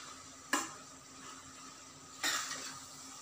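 Mutton kheema pasta stirred in a pan, two brief scraping strokes of a utensil over a steady low sizzle, close by and without speech.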